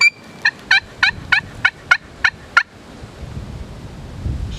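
A striker scraped across a turkey hunting call gives eight sharp, evenly spaced yelps in quick rhythm. They are loud and close, then fade into soft wind noise outdoors.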